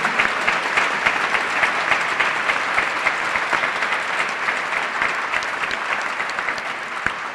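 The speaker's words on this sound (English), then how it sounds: "let's have one more round of applause for Kentucky's elementary, middle, and high school Teachers of the Year" A ceremony crowd gives a long, full round of applause for Kentucky's elementary, middle and high school Teachers of the Year, loud and sustained, gradually thinning slightly toward the end.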